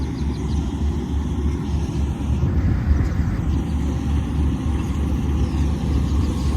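A tractor drives during a harvest day on wet, muddy farmland, its engine a loud, continuous low rumble that holds steady from start to finish with no talking.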